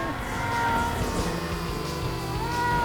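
Cartoonish cat meows sound in the Supersonic Tank Cats video game over a busy bed of game music and engine-like rumble, several mewing calls blending into the steady mix.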